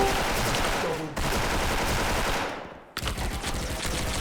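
Dense, rapid automatic fire from an M4A1 rifle in the online shooter Special Force, sustained bursts with a brief pause, loud and close.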